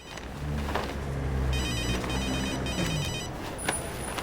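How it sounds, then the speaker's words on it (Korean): A cell phone ringtone chiming in a film scene set on a Seattle street, a repeating electronic ring pattern at moderate distance over steady traffic and street noise. "절대로 놓쳐서는 안 되는 휴대폰 벨소리가 울립니다."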